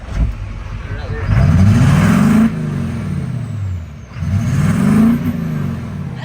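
A Duramax diesel truck engine is revved twice in quick succession, each rev swelling loudly and falling back to a rough idle. It is close and powerful, with a faint hiss between the pulls.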